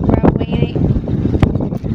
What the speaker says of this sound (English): I'm just sick of the wind.